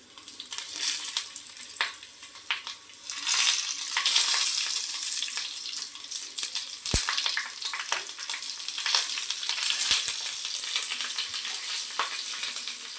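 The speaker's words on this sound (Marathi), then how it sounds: "आता तेल आपलं गरम झाले. आता आधी आपण ह्या मिरच्यांची जी भरलेली मिरच्यांची साईड आहे ती आपण अशी ठेवूया" Stuffed green chillies fry in hot oil with a continuous dense, crackling sizzle, broken by occasional sharp clicks and pops of handling.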